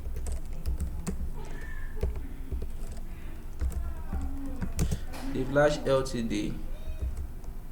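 Rapid, close-up clicking of keys on a computer keyboard runs throughout as words are typed into a document, with a person speaking over the keystrokes.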